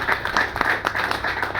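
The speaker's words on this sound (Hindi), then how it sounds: "एक बार जोरदार ताली" Audience clapping in a crowded hall at a Hindi-language talk, a dense, steady burst of many hands with no voices over it.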